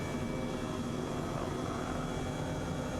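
A simulated H135 rescue helicopter in Microsoft Flight Simulator makes a constant, even turbine and rotor drone, fairly quiet and unchanging throughout, with no voices.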